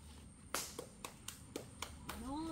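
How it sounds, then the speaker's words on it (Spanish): One person claps about six or seven times in a slow, uneven rhythm, each clap sharp but fairly faint and close, during a small mini-tournament between crews, with a quiet voice near the end. "Alejandra, aplaudí."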